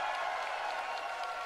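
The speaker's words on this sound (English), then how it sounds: "Please give a big round of applause for MKLeo." An audience at a Nintendo E3 Super Smash Bros invitational award ceremony applauds for a second-place finisher, a dense, even wash of clapping that holds steady without a break.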